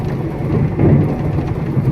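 Rain falling on a farm, a dense steady rumbling hiss with a slight swell midway, heavy and close, with no talk.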